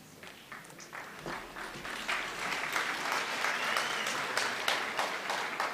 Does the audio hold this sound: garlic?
no